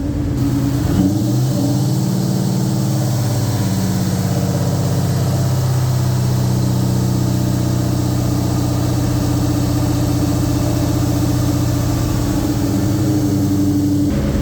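A 2003 SVT Cobra engine idles while warming up after repair, a loud, steady, close rumble that holds throughout with a low throb and no talk.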